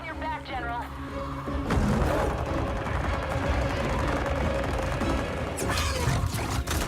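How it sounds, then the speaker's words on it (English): Gunfire rattles through a Mortal Kombat 11 video game cutscene, a burst of shots and heavy crashes packed over several seconds beneath dialogue and effects. "There's a lot of gunfire for a Mortal Kombat game."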